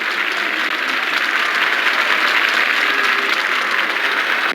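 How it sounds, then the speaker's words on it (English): Hockey arena crowd in the NHL 07 video game, Rangers versus Devils, cheering in a loud, steady, dense roar that holds throughout without breaks. "The crowd gets excited every time he touches the puck."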